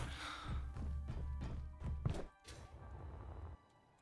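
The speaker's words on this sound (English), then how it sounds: "Shoot it with the paint gun" A paint gun fires in the video game Space Engineers 2: a quick series of soft thumping shots, several in a row followed by a brief low rumble, fairly faint and close, with no voices over it.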